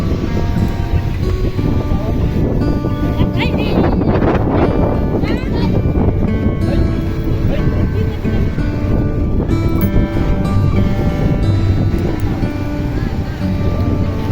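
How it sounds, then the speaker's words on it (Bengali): Sea waves crash continuously on Digha beach under a bright sun, a dense, loud roar of surf mixed with wind buffeting the microphone, with faint voices and tonal sounds woven into the background. "সমুদ্রের টিউটা কেমন আছড়ে পড়ছে দেখো"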